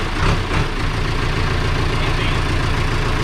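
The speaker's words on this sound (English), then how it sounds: "We're just cranking everything. 1980s John Deere 310C." A 1980s John Deere 310C diesel engine idles just after a cold start, a steady, loud, close chugging rumble that holds evenly throughout.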